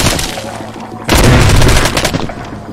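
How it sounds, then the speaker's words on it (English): A grenade detonates in the VR zombie game Arizona Sunshine, a loud, close boom that bursts in suddenly after a quieter stretch and rumbles on with crackling debris, without any talking. "You said not to throw a grenade again."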